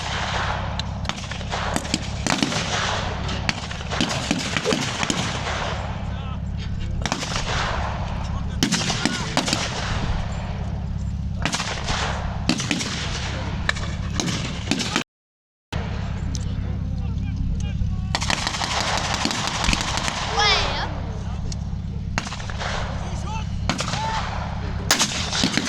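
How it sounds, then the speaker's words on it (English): Gunfire and artillery from a WW2 re-enactment with tanks at a crossroads and open farmland ring out in rapid bursts and heavy booms, loud and sustained, broken by one brief silence. "The Germans open fire."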